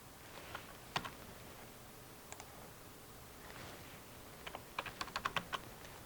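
Typing on a computer keyboard while entering a dimension in AutoCAD: a few soft isolated key clicks early, then a quicker cluster of taps near the end, faint and close against a quiet background.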